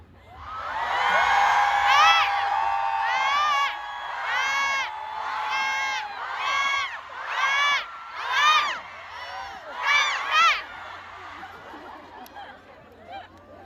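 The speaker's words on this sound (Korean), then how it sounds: "진정성 있는 환호성 부탁드리겠습니다." A standing-zone concert crowd at a show screams and cheers loudly, first in one long swell, then in a series of rhythmic, repeated bursts that fade out near the end.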